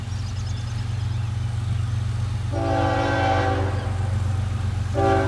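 A Norfolk Southern intermodal freight train rumbles past close by with a steady low roar, its horn sounding a long blast and then a second shorter one over the rolling noise.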